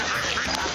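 A single loud, nasal quack from a duck, close by and brief.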